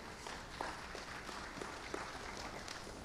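Soft, steady applause from a church congregation during a sermon, fairly distant and uniform, continuing throughout without a clear start or end.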